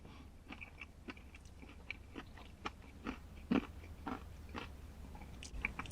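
Chewing on a crunchy coated KFC Zinger Tower Box, close and fairly quiet, a run of irregular crisp bites and crackles scattered over a few seconds against a soft low background.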